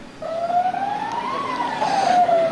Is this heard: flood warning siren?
yes